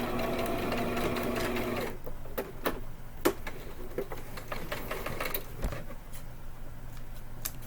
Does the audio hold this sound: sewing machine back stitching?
yes